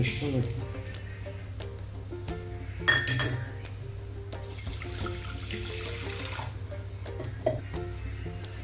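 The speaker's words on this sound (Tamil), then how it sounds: "சிறுபருப்பை கழுவி எடுத்துப்போம்." Split moong dal being rinsed in water in a home kitchen, with sloshing water and light clinks of the vessel throughout, under a steady low hum and occasional voices.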